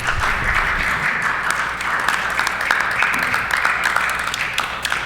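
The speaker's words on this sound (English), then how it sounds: "Thank you to members opposite for that applause" Applause from members in a legislative chamber, desk-thumping and clapping that starts strong and continues in scattered, uneven bursts, heard alone without speech.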